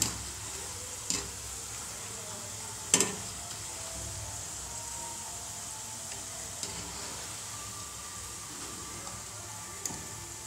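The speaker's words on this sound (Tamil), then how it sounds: "இந்த மாதிரி நல்லா வேக வச்சு ரெண்டு பக்கம் திருப்பி விட்டு திருப்பி விட்டு நல்லா ப்ரௌனாக வர." Ragi pakoda fry in a pan of oil with a faint, steady sizzle, broken by a few sharp clicks and taps as the pieces are turned over; no one speaks.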